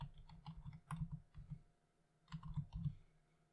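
Bursts of quick keystrokes on a computer keyboard, two clusters of close, soft clicking separated by a short pause, with no talking.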